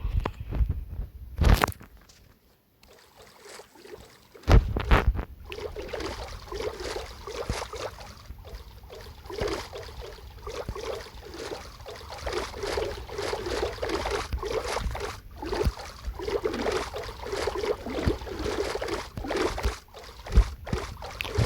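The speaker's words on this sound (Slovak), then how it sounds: "Dobre, plavím sa na pevninu" A boat paddled across water in Minecraft, with a steady, rhythmic splashing and churning that carries on for about twenty seconds at moderate loudness after a couple of sharp knocks at the start.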